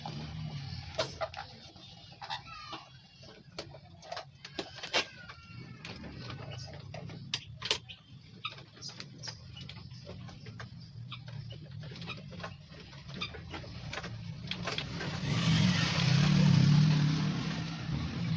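A sewing machine stitches a small fabric handbag in short bursts of rapid mechanical ticking, with pauses between runs and a louder whirring stretch near the end.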